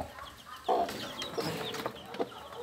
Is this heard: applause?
no